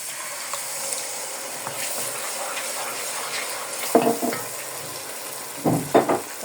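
Spices sizzle steadily in a pan with tomato sauce for spaghetti, a continuous close frying hiss with a few louder scraping stirs near the end, no voices.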